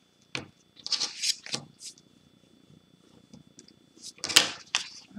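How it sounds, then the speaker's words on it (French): Paper card creased along a fold gives soft, close rustling and rubbing strokes in short bursts with pauses between, quiet overall with a sharper crackle near the end. "Donc, on marque bien le pli."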